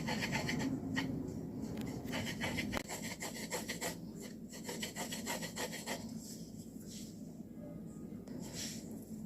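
Cassava mash for gari being pressed and rubbed through a sieve by finger or spatula, giving a steady close scraping and rubbing texture that runs the whole time with no speech.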